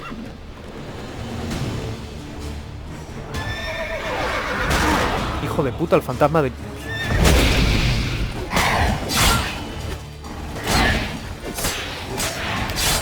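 A horse in The Witcher 3 video game gives loud whinnies and snorts amid thumps and crashes of combat, while someone talks excitedly over the noise.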